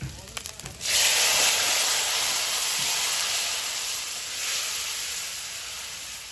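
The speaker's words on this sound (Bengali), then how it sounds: "মশলা থেকে তেল ছেড়েছে, এবার তরকারিটা দিয়ে দেবো" Vegetables dropped into hot spiced oil in a pan for a Bengali fish curry, bursting into a loud steady sizzle after a few light clatters, then hissing on evenly and easing slightly.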